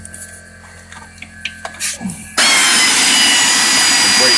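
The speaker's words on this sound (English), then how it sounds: "Loosen up both of those bolts." A power tool loosens brake caliper bolts during a coil spring swap. A few small clanks and taps lead into a loud, steady mechanical whir that starts abruptly and runs to the end.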